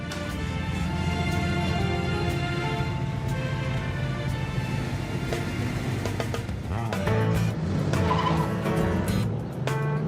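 A classic car drives hard, its engine droning loud and continuous while the tires squeal and skid across the run, with no voices heard.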